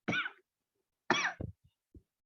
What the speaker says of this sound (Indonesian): Sisa kemarin ya, batuk sakit nih.